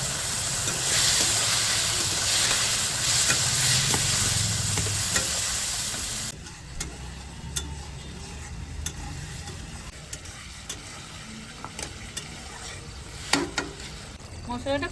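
Ginger and cumin paste sizzles and fries loudly in a hot pan for a katla fish curry, with steady stirring scrapes; after about six seconds the sizzle drops sharply to a quieter, intermittent crackle with occasional clinks.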